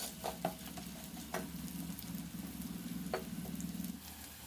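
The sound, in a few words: carrot pieces frying in a pan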